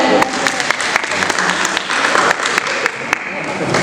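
Workshop audience applauding two participants at a book launch, a loud sustained burst of many hands clapping with sharp individual claps standing out, voices audible underneath.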